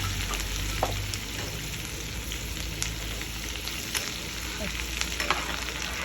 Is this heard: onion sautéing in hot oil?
yes